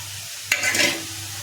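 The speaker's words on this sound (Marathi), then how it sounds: "हे चांगलं परतवून घ्यायचं" Crushed peanut powder and chopped coriander are sautéed in a pan for a chutney, a single scrape of the spatula followed by a short burst of sizzling stir noise over a quiet low hum.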